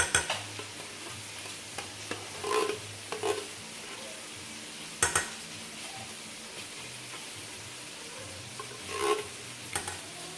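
Chicken noodle casserole stirred by hand in a dish, with soft squelching, scraping mixing sounds and a few louder clinks over a faint background hiss.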